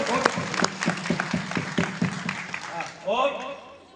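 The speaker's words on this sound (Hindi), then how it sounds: "तालियां बजा दो।" An audience at a Hindi religious talk bursts into brief applause, a quick run of loud claps that fades within a few seconds as voices come in underneath and then take over.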